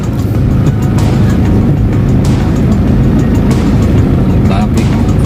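Steady, loud road traffic rumble heard from inside a vehicle on a road trip through Laurel, Batangas, a continuous low engine and tire drone with occasional passing swells, and faint voices underneath.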